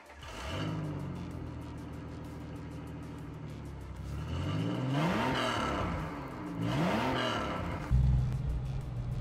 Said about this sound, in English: you can actually hear that this SUV has a V6 engine that sounds awfully a lot like the Ford Explorer